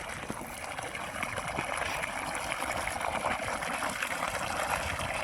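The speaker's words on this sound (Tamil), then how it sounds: "ஒன்றரை இன்ச்சு பைப் ஃபுல்லாகவே தண்ணி நல்லா வந்துகிட்ருக்கு" Water gushing steadily from the full 1.5-inch delivery pipe of a 3 hp solar borewell pump 380 feet deep, a continuous close, even rushing flow that fills the whole stretch without pause.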